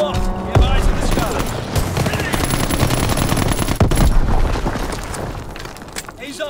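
An aircraft strafing run in a video game: loud, sustained bursts of rapid gunfire with heavy booms over a constant low hum, with a voice faintly mixed in.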